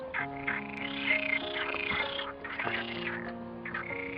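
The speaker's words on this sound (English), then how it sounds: "I think the happiest things at the moment are the frogs." A chorus of frogs croaks continuously, many overlapping calls at a steady low level, outdoors and moderately distant, at Cabranosa near Sagres, Portugal.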